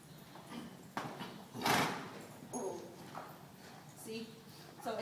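A horse lopes with soft, rhythmic hoofbeats clip-clopping at moderate distance, now and then accompanied by a brief whinny-like sound and light background noise.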